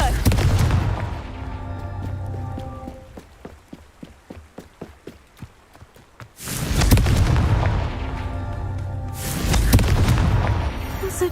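Confringo spell blasts go off in the Hogwarts Legacy video game as loud booming explosions, with a rapid series of sharp cracks between two big blasts.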